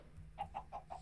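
A chicken in the Minecraft game, modded One Block version 1.16.5, clucks four times in a quick, even series, fairly soft and close, with no speech over it.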